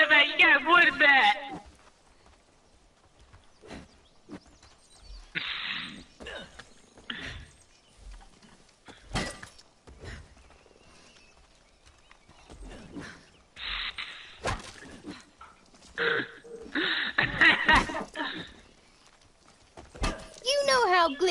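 Horse hooves clip-clopping in a video game, heard in short intermittent bursts of rhythmic steps between stretches of quiet, with people talking over parts of it.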